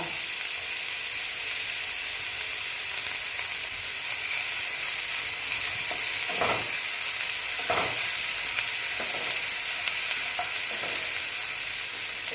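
Onion paste and ginger sizzle steadily in hot oil in a pan for a katla fish curry, a continuous frying hiss with a few louder spatula stirs scraping through, no voices.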